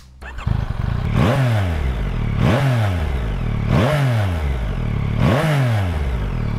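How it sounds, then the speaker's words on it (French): A 2024 Yamaha MT-09 three-cylinder CP3 engine with the stock exhaust starts and revs repeatedly, four loud rising-and-falling throttle blips in a steady rhythm, close to the microphone. "il est temps de redémarrer ce petit CP3 démoniaque et d'écouter un petit peu la ligne d'origine"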